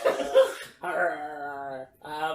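A woman imitates a dog with three short, voiced bark-like yelps separated by brief pauses, close and fairly loud.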